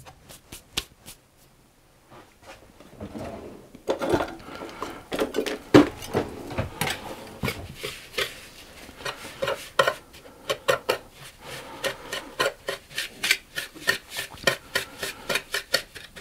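Ground almonds, sugar and lemon stirred together in a bowl: irregular scraping and clinking of a utensil against the bowl, close and fairly quiet, growing busier after a few seconds and continuing rhythmically.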